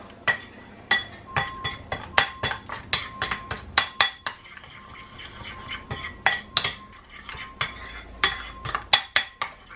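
A spoon stirs and mixes ingredients in a cooking pot while making dongo dongo with aubergines and thomson fish, giving a steady run of close, sharp metallic clinks and scrapes with no one talking.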